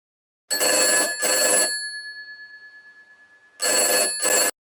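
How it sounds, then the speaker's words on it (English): Two bright bursts of a telephone ringtone ring out through a 10 millisecond stereo delay, a pulsing tail decays through the pause, then two more bursts follow; no voices. "let's do a 10 millisecond delay"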